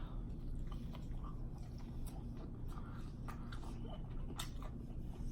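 Gyoza dumplings dipped in sauce being chewed close to the microphone, soft repeated bites and wet mouth sounds over a quiet steady background hum.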